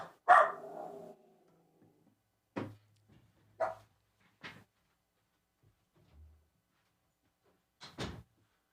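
A dog gives a few sharp, isolated barks spaced seconds apart in a quiet indoor room, moderately near, with a door or cupboard knock in between and silence around them.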